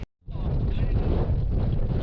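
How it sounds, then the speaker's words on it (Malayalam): Strong wind on a mountain buffets the microphone in a loud, continuous roaring rumble that starts abruptly after a brief silence and holds steady throughout. "ഭയങ്കര കാറ്റ്"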